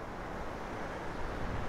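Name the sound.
mountain stream flowing from under boulders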